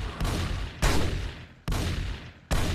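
Gunfire in the zombie survival game 7 Days to Die comes as four sharp, loud shots at irregular intervals. Each crack is followed by a short decaying tail, and nobody talks.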